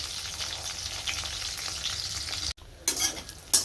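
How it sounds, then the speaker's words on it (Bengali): Fish roe fritters sizzle and crackle in hot oil in a pan. The close, steady frying cuts out for a moment, then returns in louder bursts. "এখানে মাছের ডিমের বড়াগুলো ভাজা হচ্ছে"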